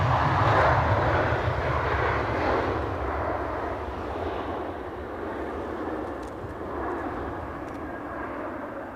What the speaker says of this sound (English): Lufthansa inbound from Frankfurt.